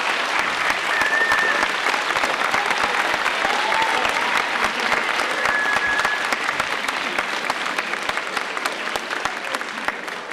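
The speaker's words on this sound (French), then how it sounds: "qu'on peut déjà applaudir peut-être" An audience in Aix-en-Provence greets astrophysicist Hubert Reeves with applause, a thick, steady round of clapping from many hands, close and loud for the full ten seconds with a few whoops.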